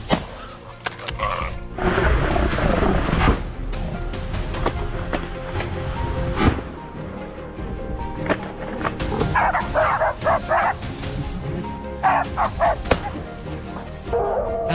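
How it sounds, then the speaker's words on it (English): Hunting dogs bark during a wild boar hunt, repeated barks and yips in irregular bursts, some near and loud, others farther off, over rustling movement outdoors. "I suddenly heard the hunting dogs barking, their sound growing louder by the second."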